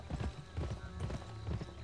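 Hooves clip-clop in a steady repeating rhythm from a horse in the video game Gun, up close over a busy game soundscape with low rumbling ambience.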